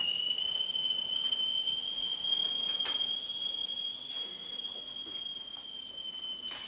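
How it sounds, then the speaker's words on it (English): A kettle whistles with a single steady, high-pitched tone that holds unbroken for several seconds, fairly faint against a quiet indoor room. "I'll just turn the kettle off."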